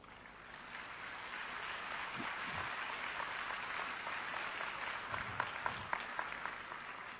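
Audience applause at a motivational church-style talk, a steady wash of clapping that swells slightly and ends with a few sharper individual claps.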